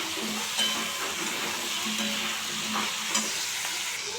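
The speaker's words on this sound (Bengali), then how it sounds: "আলু আর পেঁয়াজটা হালকা ভেজে নিয়েছি" Potatoes and onions sizzle steadily in a hot pan, a continuous frying hiss with occasional scraping of a utensil stirring them, close and fairly loud throughout.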